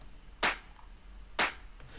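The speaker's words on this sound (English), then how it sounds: "I used two layers for the clap, and I used these plugins." A layered clap sample in a lo-fi house track, two crisp, bright claps about a second apart, each with a short airy tail, isolated over a faint low hum.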